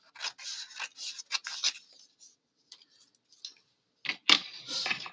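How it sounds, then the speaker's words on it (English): Scissors cutting watercolor paper along a line for an accordion book, with a run of close, crisp snipping strokes, a quiet pause, then a few more cuts. "You want to make sure that you got it cut right on the line."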